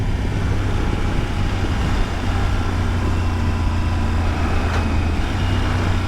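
A 2023 Triumph Tiger 900 Rally Pro motorcycle carries two riders through curves, its steady engine drone mixed with heavy wind and road rush, with a faint quick gear change partway through.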